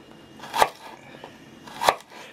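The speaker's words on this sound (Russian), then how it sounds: "Также измельчаем имбирь." Knife chopping ginger into small pieces on a board for a hot sauce, two sharp close cuts spaced about a second apart over quiet background.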